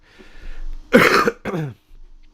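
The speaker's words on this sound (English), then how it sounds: "Sorry for my cough, by the way." A couple of harsh, close coughs in quick succession, followed by a softer throat-clearing sound, with quiet room noise around them.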